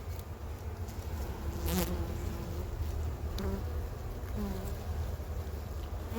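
Steady, dense buzzing of many honey bees close by at a hive, a continuous hum with occasional individual bees passing nearer to the microphone.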